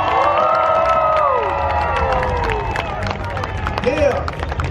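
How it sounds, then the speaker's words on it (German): At a knights' tournament in an amusement park, a crowd claps and cheers for the winner with a mix of voices and hands under shouting and lively chatter close by. "Applaus für dir!"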